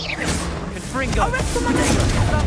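A Confringo blasting spell is cast in a Harry Potter video game, giving a dense burst of magical energy and a booming impact that swells into a sustained roar over busy game sound, with voice-like tones layered in.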